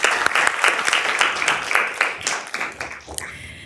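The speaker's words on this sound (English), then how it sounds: "Let's give our students a round of applause." A school board meeting audience applauds students, a burst of dense clapping that slowly thins out over a few seconds, heard up close with no clear talking.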